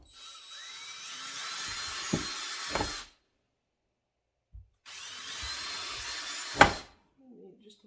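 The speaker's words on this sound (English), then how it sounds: "And drill holes." A power drill bores holes in a homemade egg incubator lid: two sustained whining bursts of a few seconds each, separated by silence, with a thump or clatter near the end of each run.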